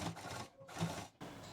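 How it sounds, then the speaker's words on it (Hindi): Sewing machine stitching the lace of a party sling bag, heard in short mechanical bursts separated by brief pauses, fairly quiet and close with no talking. "अब सिलते जाएंगे इधर से।"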